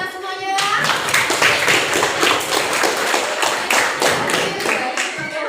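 A classroom of students claps together after group work, a dense, steady patter of hand claps lasting several seconds, fairly close and loud, with a teacher's voice briefly at the start.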